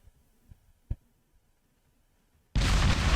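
A warship's missile launch in the naval combat game Modern Warships, fired from the INS S5 ship: a sudden loud, sustained roaring blast that begins abruptly after a few faint clicks and near-silence, continuing at full volume to the end.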